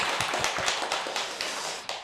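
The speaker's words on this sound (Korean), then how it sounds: "박수로 환영합시다." A church congregation claps to welcome a visitor, a dense burst of many hands applauding together, steady and fairly loud for a couple of seconds with no talk over it.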